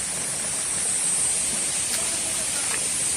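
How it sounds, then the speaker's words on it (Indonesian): Steady rushing water from a small waterfall at Air Terjun Badorai, Sungai Pua, a constant close hiss with no breaks. "ini air terjun yang kecilnya ya sobat"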